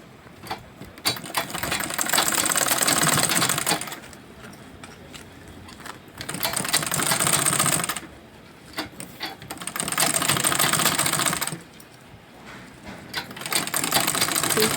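Sewing machine stitching a crossbody sling bag: three long runs of fast, steady mechanical whirring and clatter separated by short pauses with light handling clicks.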